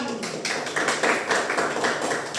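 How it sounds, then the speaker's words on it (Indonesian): A classroom of students claps for a classmate named Azam during a coding and AI lesson, a short burst of steady, moderately close applause. "Tepuk tangan tuh Azam"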